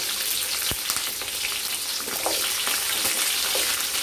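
Small shallots fry in hot oil for a Tamil chicken uppu kari, making a dense, continuous sizzle that stays loud and even, with one sharp click early on. No one speaks.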